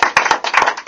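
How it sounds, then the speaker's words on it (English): An audience claps for Partnerships with Industry on a talk show, a loud, close burst of hand claps with a few distinct slaps. "I would like to give a huge round of applause to Partnerships with Industry."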